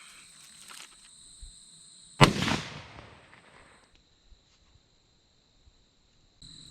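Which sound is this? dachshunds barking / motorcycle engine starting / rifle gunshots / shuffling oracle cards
rifle gunshots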